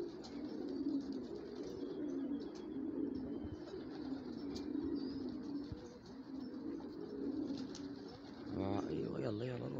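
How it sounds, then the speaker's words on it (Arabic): Pigeons coo steadily inside a loft, a low continuous burbling that runs throughout, with a brief call or voice near the end. "طلع يا اخوان الحمام صارت جوا المطير"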